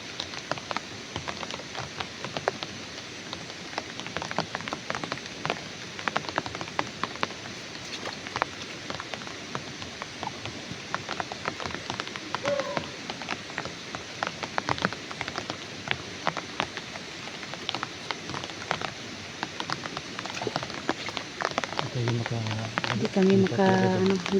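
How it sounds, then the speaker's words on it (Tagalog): Heavy rain pours steadily on a camp, making a continuous dense patter with scattered sharper drips and crackles that stay close and loud throughout. "malakas pa yung ulan"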